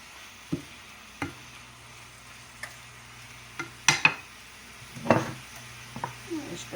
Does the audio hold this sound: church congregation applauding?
no